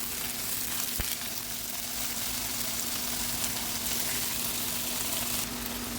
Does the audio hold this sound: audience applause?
no